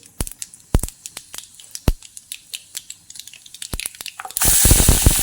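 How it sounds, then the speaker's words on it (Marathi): Mustard seeds spluttering in hot oil in a kadhai, scattered sharp pops and crackles at irregular intervals, close by, that give way at the end to a loud, steady hiss. "कढईमध्ये तेल एक पळी टाकून घेतली मोहरी टाकायची"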